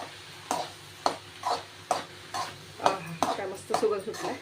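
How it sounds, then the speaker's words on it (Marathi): Sweet corn momo filling being stirred with Schezwan chutney, a spoon scraping and knocking in a bowl in repeated strokes, close and moderately loud, with faint background hum. "मिक्स करून घेऊया।"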